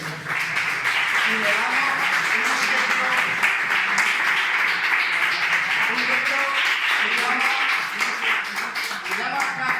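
A dense crowd applauds steadily and loudly at a public talk and debate in Linares, Jaén, with the clapping filling the whole stretch while a voice speaks over it.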